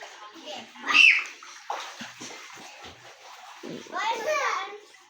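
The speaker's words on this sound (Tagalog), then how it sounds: "si Duday, sumisisid." Water splashing as a child dives in, with bursts of sloshing amid lively children's voices and chatter throughout.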